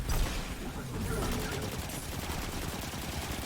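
Rapid automatic gunfire from the 4th Time's a Charm weapon in the shooter game Destiny 2. It crackles in a long, steady stream of shots under a dense, quiet rumble of other action.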